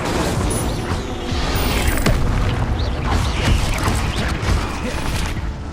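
Incendio fire spell cast in the Hogwarts Legacy video game, a dense loud rumbling roar with creaking, crackling and booming mechanical textures sustained throughout and no clear talk.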